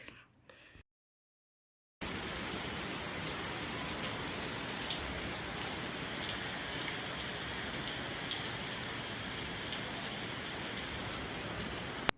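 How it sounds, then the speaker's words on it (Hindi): Heavy rain pours in a loud, dense, steady rush that fills the whole stretch after a brief quiet pause at the start, with no voices over it. "अचानक से इतनी तेज़ बारिश की आवाज़ आई"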